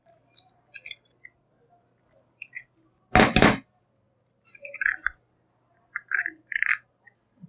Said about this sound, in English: You break the egg first.